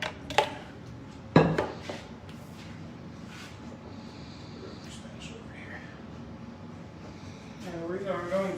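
A metal mixing bowl is lifted off a stand mixer in a home kitchen while baking buckeye brownies, giving a couple of sharp clanks and knocks near the start amid quiet kitchen handling, with a person talking throughout.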